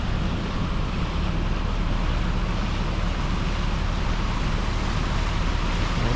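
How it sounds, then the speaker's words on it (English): A fast-flowing brook rushes in a loud, steady, unbroken roar close by, with no voices heard. "That brook is ripping."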